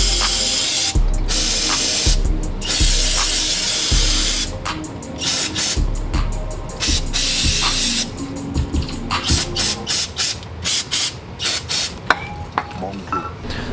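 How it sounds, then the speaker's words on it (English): Brake cleaner sprays in long hissing bursts onto a 2022 Toyota GR86 rear differential, then in quicker short blasts, loud and close, with a few ratcheting clicks in between. "I just like to take a little bit of brake clean"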